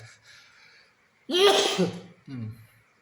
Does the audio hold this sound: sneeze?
yes